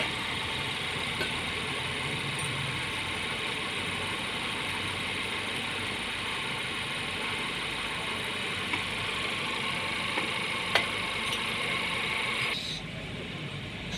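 A Honda generator engine idles in a steady, moderately loud hum with a few faint clicks, then cuts off near the end.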